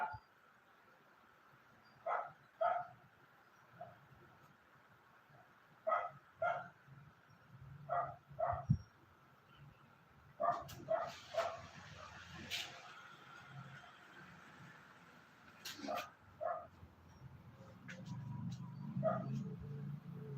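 A dog barks in a series of short, sharp yips spread across the clip, mostly single or paired barks at moderate distance, with faint room noise and some low rumbling near the end.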